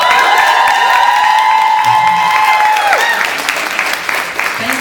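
A ClexaCon 2018 convention panel audience claps and cheers loudly for the panelists, with sustained applause, whistles and whoops that taper slightly toward the end.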